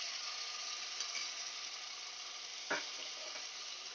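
Garlic and ginger paste frying in hot coconut oil gives off a steady, soft sizzle with no one talking, and a single faint clink comes partway through.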